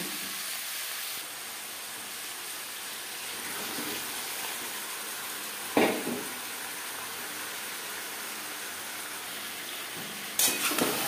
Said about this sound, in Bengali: এবার দিয়ে দেব ম্যারিনেট করে রাখা মাংস।